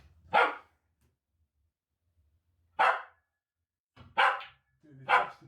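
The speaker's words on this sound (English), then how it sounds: "Interrupted by dog." A dog barks four times, close and loud, with long silent gaps between the first two barks and a quicker pair at the end, interrupting a game of pool; nothing else is heard.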